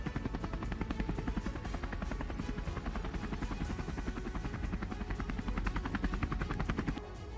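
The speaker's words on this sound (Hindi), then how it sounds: "बाढ़ में फंसे लोगों का हेलीकॉप्टर से रेस्क्यू।" A rescue helicopter hovers over flood-hit Menorca island, its rotor chopping in a fast, steady loud thump with engine whine throughout, close and unbroken.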